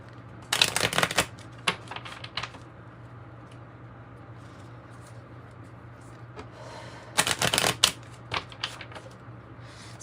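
A Kipper oracle card deck is shuffled in two brisk, papery riffling bursts separated by a quieter pause with a few soft taps, close up over a faint low background hum.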